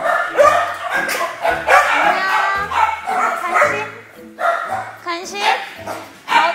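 Abandoned dogs at a shelter bark and yip repeatedly in loud, close bursts, with whimpers between, while people talk over them.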